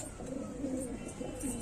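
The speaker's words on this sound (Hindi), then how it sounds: "तो ये चार कबूतर लेके आया था, मैं छोड़ देता हूँ इसको" Pigeons cooing softly and continuously at close range as four birds are released, a low murmuring call with no other clear sounds.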